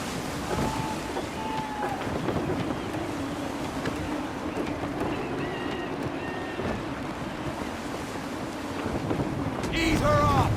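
Gusty wind roars across open sea around a sailing ship in Assassin's Creed III, a steady rushing blast with waves and creaking rigging, swelling louder at the end, while muffled voices call out beneath it.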